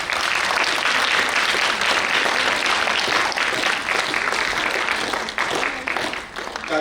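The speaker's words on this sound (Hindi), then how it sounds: "एक बार जोरदार तालियों के साथ" Loud, dense applause from an audience at a Hindi stage show honouring its guests, steady broadband clapping throughout with a slight dip near the end.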